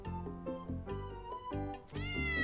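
A video game cat meows repeatedly in a series of drawn-out, whiny calls, loud and close, with some yowling tones and no speech.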